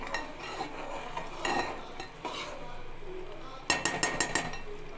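Pulihora tamarind rice being stirred in a metal pot, soft scraping passes followed by a quick run of sharp spoon clinks against the rim near the end; a voice talks faintly underneath.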